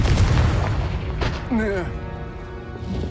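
A Confringo fire spell bursts in a Hogwarts Legacy combat encounter, a booming blast with crackling energy mixed among other battle effects and a character's voice.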